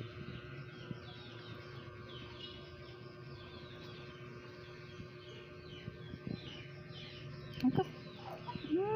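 Chickens cluck quietly at a farmyard in the evening, giving soft, scattered calls under low background noise. Several sharper, louder clucks come near the end.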